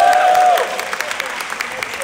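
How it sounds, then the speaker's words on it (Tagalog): A comedy show audience claps in a dense burst that soon thins to scattered claps, with a brief voice over the start. "Round of applause kung trip niyo yung kare-kare"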